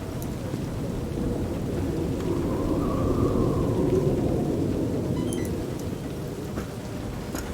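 Rain and rolling thunder in the city of Cyberpunk 2077, a dense steady downpour with a long low rumble swelling midway and fading, loud and continuous, no voices.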